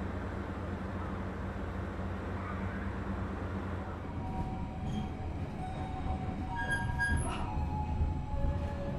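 A long 320-metre Ambarawa Ekspres passenger train pulls out of Bojonegoro station with a steady, loud low rumble; thin metallic wheel-squeal tones rise over it in the second half, with no voices.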